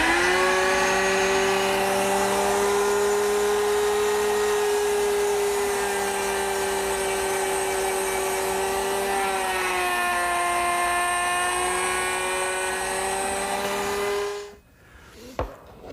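A plunge router cuts a mortise about 1.25 inches long into a wooden table leg held against a fence, a steady high whine with strong harmonic tones that shifts pitch slightly midway, then abruptly stops as the motor cuts off.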